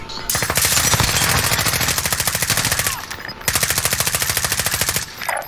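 Sustained automatic gunfire in Call of Duty Warzone, loud, fast, evenly spaced bursts that run for several seconds, break off briefly, then resume as another long burst.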